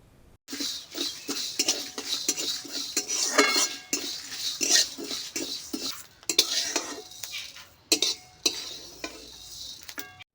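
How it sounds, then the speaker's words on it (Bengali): Dried chillies, fennel and other whole spices dry roasted together in a pan for a village-style jujube pickle: repeated rhythmic scraping strokes with metallic clinks of utensil on pan, close and clear, with no talking. "শুকনো লঙ্কা, এবং তারপরে দিতে হবে যে মৌরিগুলো নেওয়া হয়েছিল সেই মৌরিগুলো দিয়ে একসঙ্গে সমস্ত মশলাগুলোকে ড্রাই রোস্ট করে নিতে হবে"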